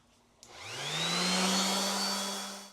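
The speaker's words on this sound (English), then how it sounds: "I'm gonna sand it with the mechanical sander to start" A mechanical power sander spinning up on Bondo-filled damaged wood, a sudden click followed by a rising whine that settles into a steady, loud motor drone.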